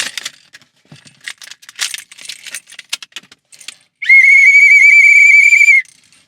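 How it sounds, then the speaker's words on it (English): An emergency whistle gives one loud, shrill, sustained blast lasting under two seconds, preceded by scattered close rattling and jangling. "Emergency whistle."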